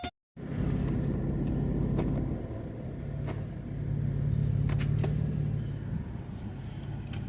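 A Pontiac G6 convertible, recently revived after years in storage, idles with a low rumble while its transmission is shifted through the gears, the engine note dipping and swelling with faint clicks across the gear changes.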